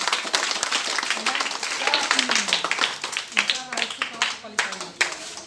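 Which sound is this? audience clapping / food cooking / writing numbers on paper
audience clapping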